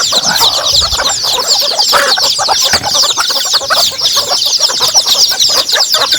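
Chickens clucking steadily in a farm setting in Laos or Thailand, a dense chorus of many birds close by with occasional rooster sounds, loud and continuous with no talk.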